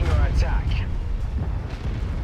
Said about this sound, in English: He's gonna blow up. Get caught in the explosion there.